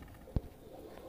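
A single brief, low pigeon coo sounds once against a quiet background at a pigeon breeder's loft in Sialkot.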